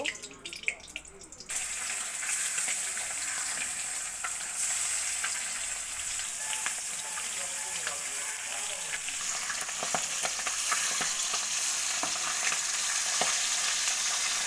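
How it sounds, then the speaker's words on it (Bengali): Pieces of sankar fish fry in hot oil in a wok, starting with a sudden loud, steady sizzle that holds for the rest of the clip with faint stirring crackles. "এবার কড়াই গরম হলে কড়াইতে তেল দিয়ে মাছগুলো আমি ভেজে নেব।"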